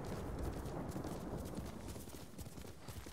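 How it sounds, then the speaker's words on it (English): Horse hooves in Ghost of Tsushima approach with a soft, continuous clopping rumble, fairly quiet and steady throughout with no voices. "I also like that we just shout horse for our horse to turn up."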